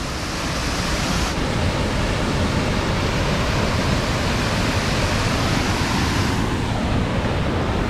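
A waterfall at Cherrapunji in Meghalaya roars as a steady, dense, full-band rush of falling water, loud and close and unbroken, with no voices.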